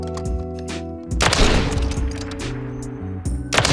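FJX Lux 7 sniper rifle fired on a firing range in Modern Warfare 3, a sharp loud close shot with a long echoing tail, followed later by another crack, over steady game ambience.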